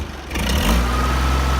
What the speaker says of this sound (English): This boy gonna try out this tractor.